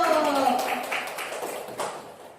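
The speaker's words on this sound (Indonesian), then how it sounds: "terima kasih, tepuk tangan dulu" Applause from an audience of teachers at a primary school in Indonesia, a ragged patter of claps over lingering tonal sound that fades toward the end, moderately close.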